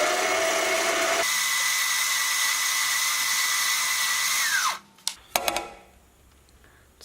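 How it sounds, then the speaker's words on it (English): A roller buffing tool polishes a 303 stainless steel ring with a loud, steady high-pitched whine that runs for several seconds, then spins down and stops, followed by a few brief knocks. "it's like a roller thing, no current polish on it, so I'm just buffing it"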